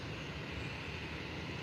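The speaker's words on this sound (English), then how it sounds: "Norwegian MAX takeoff." A Norwegian Boeing 737 MAX on its takeoff roll at Faro Airport, a steady broadband jet engine roar held at constant strength, distant and fairly faint, with no voices over it.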